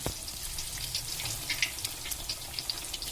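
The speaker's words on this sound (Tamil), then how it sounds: "எல்லா வாழைப்பழமும் போட்டு நல்லா பொரித்து எடுத்துக்கோங்க" Banana pieces deep fry in hot oil, a soft continuous sizzle with scattered crackles and pops, close and fairly quiet, with no talk.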